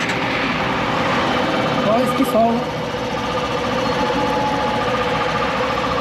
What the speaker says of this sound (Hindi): बाइक को मैं करके दिखाता हूँ स्टार्ट,